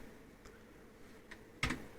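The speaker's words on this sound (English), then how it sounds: "I'm going to type in 54 and press enter" Quiet computer keyboard typing, a few soft scattered key taps followed by one sharper, louder keystroke like pressing enter, with a faint background hum.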